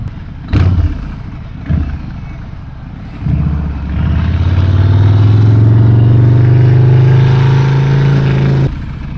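A Honda motorcycle rides through city traffic, its engine loud and close, revving up and holding a steady drone after a couple of brief bumps at the start.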